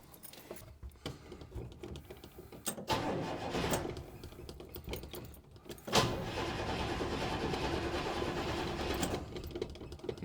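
A 1937 Chevy hotrod engine cranks on a cold start in bursts, then catches and settles into a steady, rough running rumble that holds to the end.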